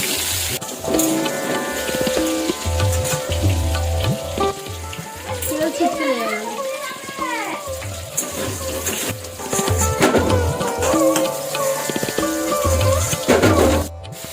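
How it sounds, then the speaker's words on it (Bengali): Potato pieces for a meat curry fry in hot oil in a village kitchen, a steady close sizzle with occasional stirring clatter and a few brief background voices. "মাংসের আলুগুলো ভালো করে লাল লাল করে ভেজে নিচ্ছি"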